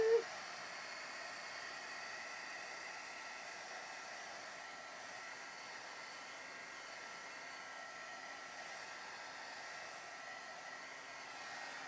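A hair dryer blows steadily on wet watercolor paint, a continuous moderate whooshing hiss of airflow that runs unbroken at even loudness from start to finish with no talking.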